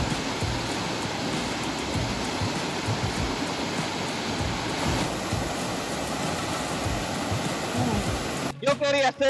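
The Papayo waterfall and pool near Salamanca, Chile pour in a steady, broad rushing roar close by, continuous throughout, with a brief voice cutting in at the very end.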